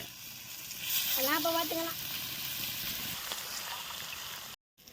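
Freshly netted fish fry in oil outdoors with a steady, even sizzle that fills the clip. A voice speaks briefly over it early on, and the sound cuts out for a moment near the end.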